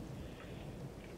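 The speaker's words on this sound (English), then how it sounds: "Oh no, is it raining? I heard thunder." Rain pours steadily in Minecraft with a low thunder rumble rolling underneath, a dense continuous wash of sound throughout the short stretch, with no voices.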